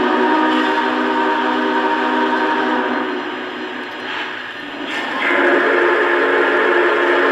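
Shrill steam whistle from a Big Boy 4000 model train engine, sounding steadily for several seconds, dipping briefly in the middle, then rising again to full strength, loud and close with no talking over it.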